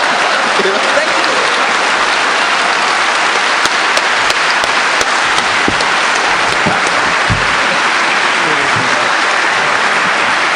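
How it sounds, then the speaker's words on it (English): Loud, sustained applause from a large crowd at a Linux conference's closing lightning talks, steady clapping throughout with scattered louder claps and faint voices mixed in. "round of applause"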